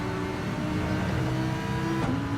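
Racing-game cars sweep through a fast corner at Brands Hatch, with engines droning loudly and steadily at high revs and no break in the roar.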